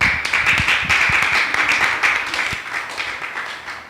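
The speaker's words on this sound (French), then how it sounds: "ça mérite un applaudissement" Clapping from an audience at a Miss ISNAC 2016 pageant finalist interview event: a dense, steady round of applause, loud and fairly close, that gradually tapers off over a few seconds.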